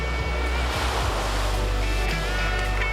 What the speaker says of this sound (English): watch a romantic sunset lulled by the rhythmic sounds of the ocean